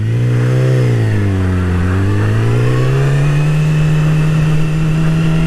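A Yamaha R6 sport bike fitted with a quickshifter revs hard and loud up close; its engine note dips briefly during a clutchless shift from first to second gear, then climbs and holds a steady, strong drone.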